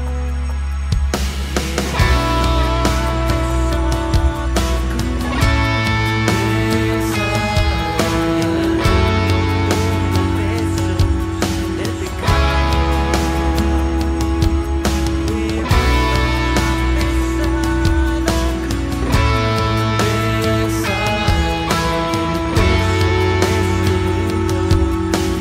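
Electric guitar plays the pre-chorus of the worship song Santo Santo, with sustained, ringing strummed chords changing every few seconds, loud and close and alone, with no voices.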